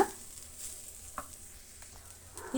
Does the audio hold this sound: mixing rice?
yes